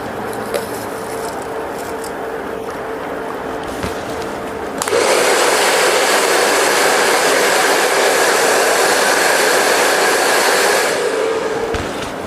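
A hair dryer used for an in-turn blow dry on a razor or feather haircut switches on partway through and roars loudly and steadily before easing off near the end, after a quieter stretch of background hum.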